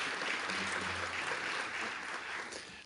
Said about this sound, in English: I think he deserves an applause.